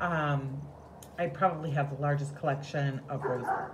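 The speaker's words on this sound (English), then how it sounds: "that's the neighbor's dog barking" A neighbor's dog barks and yips repeatedly in the background, short sharp calls in a loose rhythm under someone speaking close to the microphone.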